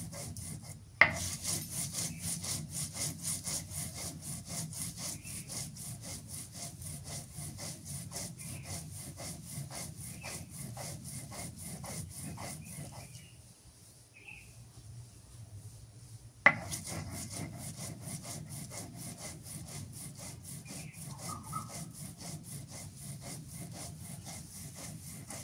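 Spices such as roasted coriander being ground into paste on a grinding stone: a steady rhythmic scraping rub, stone pushed back and forth over and over, pausing briefly near the middle before resuming.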